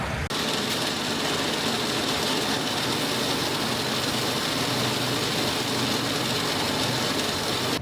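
A John Deere tractor's diesel engine runs steadily during winter cutback work, a constant loud drone that holds level for several seconds after starting abruptly.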